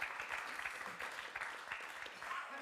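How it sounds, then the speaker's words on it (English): Audience applause at a conference session on climate change and displacement, a steady patter of many hands clapping throughout, moderately loud and continuous without talk. "An applause is your hands together"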